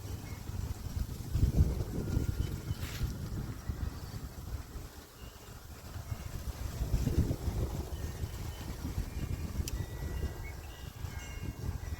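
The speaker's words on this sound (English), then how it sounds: "Wind gust hit me, blew me all over the darn place." Gusty wind buffets an outdoor archery range while a bow is sighted in, making a low, rumbling roar that swells into two stronger gusts and then eases, with no talking.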